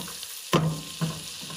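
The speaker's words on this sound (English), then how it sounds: "Give that a quick stir." A quick stir of ground cloves and nutmeg frying in a pan: steady soft sizzle with two short scraping strokes of the spoon, close and clear, no talking.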